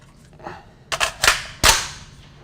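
Colt Commando AR-15 clone rifle firing at an outdoor range, three or four sharp close shots at uneven intervals, each a loud crack with a short fading tail.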